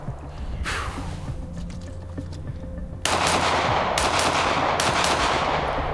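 Pistol shots from a PSA Micro Dagger, a Glock 43X clone compact 9mm, fired at a range: a loud sharp report near the start, then three more sharp cracks spaced about a second apart over steady background noise.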